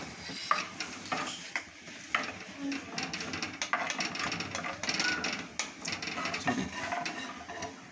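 A coconut curry with prawns, drumsticks and grated coconut is stirred slowly in a pot, giving quiet scraping and clinking strokes over a low bubbling sizzle.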